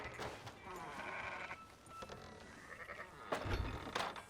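Sheep bleating several times in Red Dead Redemption 2, against a busy background of rustling and clatter, with faint voices mixed in.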